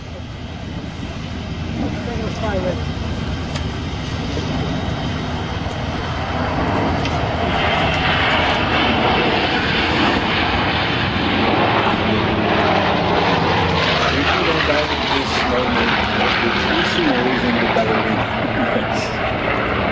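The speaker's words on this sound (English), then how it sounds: "John Beatty flying the seafire." A Seafire propeller aircraft roars past overhead at an air show, its droning engine growing louder and swelling, with a voice talking faintly underneath.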